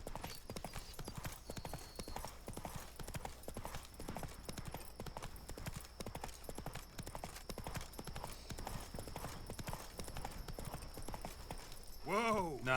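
Horse hooves clip-clopping steadily in The Witcher 3, a rapid galloping rhythm that runs throughout under game sounds and speech, ending with a louder burst near the end.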